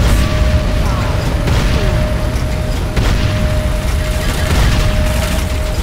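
Loud rumbling blast of a GDI power plant blowing up in the game Renegade, a sustained heavy boom with mechanical roar and distant gunfire, a steady tone running beneath.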